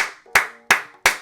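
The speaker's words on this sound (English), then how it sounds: "I'm applauding." A single person claps hands three times, sharp and close with even spacing, each clap ringing briefly in a quiet room.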